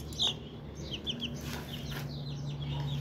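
Pigeons in a home loft, some white or mixed, give short chirps and soft calls over a steady low hum, with a brief sharper call near the start.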